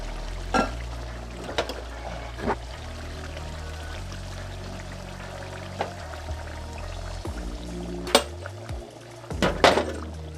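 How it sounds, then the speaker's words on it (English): Hot water pours quietly into a pot of curry goat against a low kitchen hum, with a few sharp metallic clanks near the end. "And I'm gonna add some more hot water."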